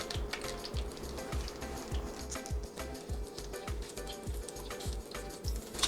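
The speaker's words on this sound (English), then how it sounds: "Now we're gonna start cooking the spam." Slices of Spam fry in a pan, giving a continuous close sizzle broken by a regular run of soft thumps and scrapes as the meat is moved about.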